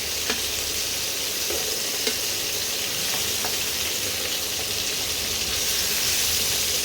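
Chicken pieces frying in hot oil give a loud, dense, continuous sizzle with faint occasional pops, close and without talk.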